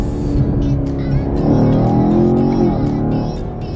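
A 2019 Camaro SS V8 engine revving loudly through paddle-shifted gear changes, its pitch climbing, then dipping at each shift, with a voice speaking faintly underneath.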